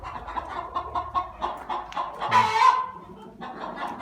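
Several chickens cluck nearby in a coop in an irregular chatter, with one louder, drawn-out squawk partway through as a hen lays an egg.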